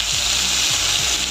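Chopped ridge gourd peel frying in hot oil in a wok, a steady close sizzle filling the whole moment with a few low stirring knocks underneath.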